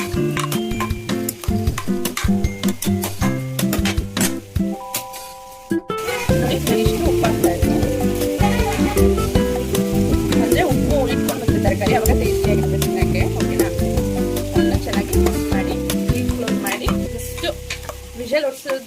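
Vegetables being stirred and mixed in a cooking pot for home-style temple sambar, with steady scraping and sizzling throughout, a brief pause near the middle, then continuous stirring.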